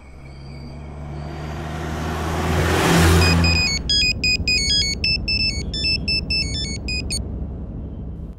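A mobile phone ringtone plays a bright, rapid electronic melody for several seconds, loud and close, just after a car engine revs up and fades away.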